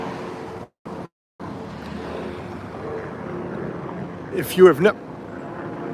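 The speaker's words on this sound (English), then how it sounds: "That's a nice private helicopter." A private helicopter passes over Bellevue Avenue in Newport, Rhode Island, making a steady, loud rumbling drone that holds throughout, with a person talking over it near the end.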